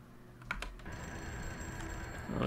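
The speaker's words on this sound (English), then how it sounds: "there's a phone somewhere." A telephone rings inside the video game Torque, a steady repeated electronic tone that starts partway through and continues over a low ambient game background.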